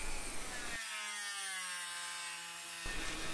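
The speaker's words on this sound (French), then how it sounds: "la Dremel avec un disque de découpe sera l'outil de choix pour y parvenir" Dremel rotary tool with a cutting disc cutting out a tail light reflector on a Volvo 480 Turbo: a steady high-pitched whine for about two seconds between broadband grinding noise at either end, close and loud, with no voices.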